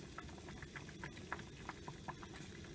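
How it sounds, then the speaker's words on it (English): Melted candle wax boils in a pan, giving off faint, quiet bubbling with small irregular pops and ticks over a low steady simmer. "that wax is now completely melted. I'm gonna leave this on the boil"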